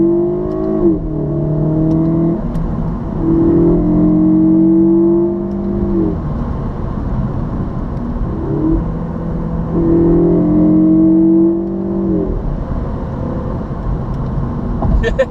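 An Alfa Romeo Giulietta QV engine revs hard through the gears, each pull rising in pitch before a brief dip at the shift, then climbing again. Loud and close, heard from inside the car with no talk.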